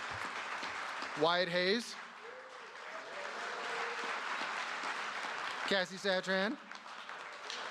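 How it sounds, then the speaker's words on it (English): A university convocation and awards crowd applauds steadily for nominees, a broad wash of clapping running throughout while a speaker announces names over it in two brief spoken bursts. "We should give it a round of applause for each of these."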